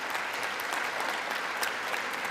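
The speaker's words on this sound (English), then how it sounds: "The Democrats finally clapping." Sustained, dense audience applause fills the chamber during a presidential joint address to Congress, steady and loud with no pauses.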